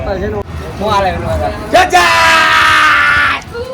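Children yell and scream during Uttarayan (Makar Sankranti) kite flying, with short calls building into a loud, sustained burst of overlapping shouting close by.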